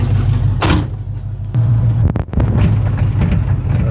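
A Chevy C30 truck with a 350 engine cruises down a highway, its steady low engine drone loud and close throughout, with a sharp burst of noise near the start and a brief dip midway.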